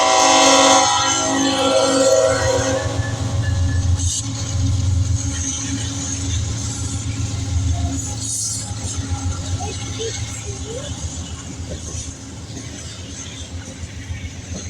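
A westbound CPKC autorack train on trackage rights, led by a CP and a KCSM locomotive, rumbles steadily past nearby. Its horn sounds clearly at the start, then the rolling rail noise fades gradually.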